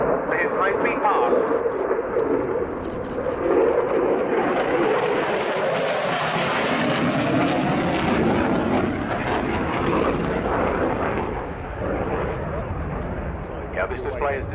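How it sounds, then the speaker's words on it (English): A Belgian Air Component General Dynamics F-16AM Fighting Falcon accelerates in afterburner for a high-speed pass at a flying display. A loud, rumbling roar swells and sweeps past and stays strong to the end, with a commentator talking over it. "accelerating in afterburner to around 620 knots for his high-speed pass"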